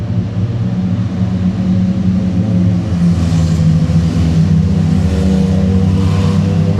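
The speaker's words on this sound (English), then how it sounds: "Wait for the motorbikes to pass." Steady low engine rumble of motorbikes passing nearby at Cheddar Gorge, swelling slightly as they go by, with no talking.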